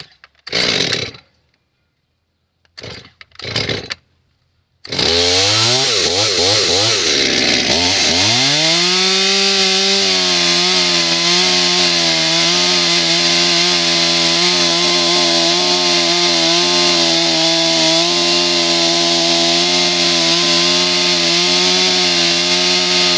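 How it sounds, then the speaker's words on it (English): A chainsaw revs in a few short bursts, then roars steadily and loudly as it bites into wood held in a bar clamp on a Workmate bench, its pitch wavering under load as the chain catches. "the chainsaw keeps getting caught on it"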